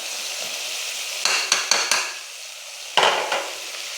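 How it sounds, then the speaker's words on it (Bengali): Salt, turmeric and sugar are tipped into a pan of spices, giving a burst of quick scraping clicks followed by another short clatter, close and crisp with no talk. "লবণ, হলুদ আর চিনি রেখেছি এখানে, এটা দিয়ে দিচ্ছি।"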